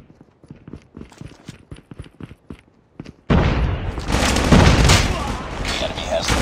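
A frag grenade blast in Call of Duty Mobile, Search and Destroy mode, hits suddenly and loud as a broad roaring burst that sustains for several seconds after a stretch of quieter clopping footsteps and small impacts.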